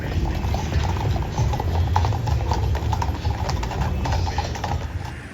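Horses' hooves clip-clop at the Kentucky Derby on a cold, wet day, a continuous patter of hoofbeats mixed with a busy outdoor crowd murmur and mechanical rattling.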